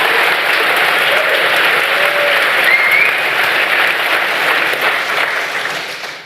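Audience applause fills a lecture hall at an evening honoring friends and colleagues, a steady dense wash of many hands clapping that holds evenly before thinning slightly at the end.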